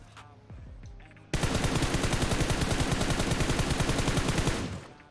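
A sudden burst of rapid automatic gunfire in PUBG Mobile, loud and sustained for several seconds in a fast, even rhythm before cutting off.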